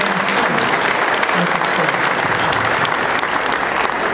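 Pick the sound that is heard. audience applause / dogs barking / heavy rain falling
audience applause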